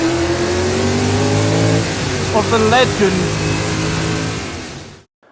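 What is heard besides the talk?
McLaren Can-Am race car engine revving on track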